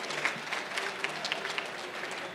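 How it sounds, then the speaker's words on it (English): Audience clapping at a startup pitch competition semifinal, a dense steady patter from many hands with a few sharper claps standing out, moderately loud and sustained throughout. "everyone give him a round of applause"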